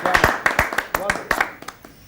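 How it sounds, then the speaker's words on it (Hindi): A handful of scattered claps from the audience at a poetry gathering ring out in an uneven rhythm, close and fairly loud, while a voice speaks over them. "और आपकी तालियां भी साथ दें तो और बात।"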